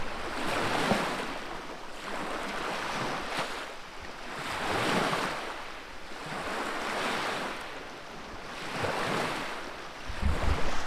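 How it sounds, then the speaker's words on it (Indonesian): Freshwater lake waves roll onto a soft brown sandy shore in slow, regular surges, each wash swelling and fading every two seconds or so, with steady wind rush throughout. "Ini kondisi atau situasinya seperti pantai karena ada gelombang dari air dari sini."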